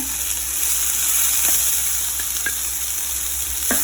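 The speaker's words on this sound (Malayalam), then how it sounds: "ഇത് നമ്മളെടുത്ത് വെച്ച ക്യാപ്സിക്കം ഇപ്പോൾ ഞാനത് ഇട്ട് കൊടുക്കാൻ പോവാണ്" Capsicum for a chicken spring roll filling drops into a hot, dry pan, giving a steady broadband sizzle with a few soft stirring clicks throughout.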